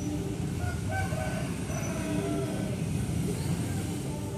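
A train rolls through Kramat railway station with a continuous loud rumble of wheels on the rails and faint metallic squeals and clanks along the way.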